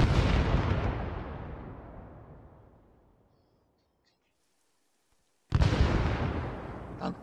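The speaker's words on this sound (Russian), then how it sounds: "Миномет работает." A mortar in the military shooter Arma fires, a loud booming blast that rolls away into a long fading echo and silence, then another heavy blast near the end.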